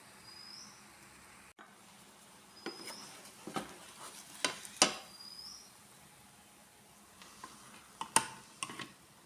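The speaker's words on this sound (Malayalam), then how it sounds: "ഇനി ചട്ടിയെല്ലാം അടുപ്പിൽ വെച്ചിട്ടുണ്ട് നമുക്ക് ചുട്ടെടുത്ത് വരാം" Quiet sizzle of parotta cooking on a hot pan with scattered clinks and scraping taps of utensils, a few louder knocks near the end.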